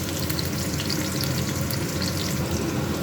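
Potatoes frying in soybean-adjacent cooking oil in a home kitchen, giving a steady, dense sizzle that stays close and constant throughout, with no talking.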